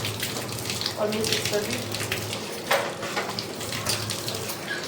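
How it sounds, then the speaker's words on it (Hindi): Tap water runs steadily into a kitchen sink during sink washing, a constant close splashing rush with occasional clatters, while someone talks briefly over it. "और वॉशिंग के बाद मैं सिंक वॉश करती हूँ"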